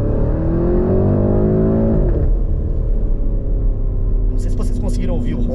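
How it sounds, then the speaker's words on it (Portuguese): Porsche Cayenne Turbo GT 2024 with a 4.0 V8 revving from inside the car, a loud rising engine roar that drops off around two seconds and settles into a deep steady rumble, with brief higher noise near the end. "eu vou dar uma aceleradinha aqui, só para vocês ouvirem um pouquinho, uma palhinha do som desse motor V8 aqui"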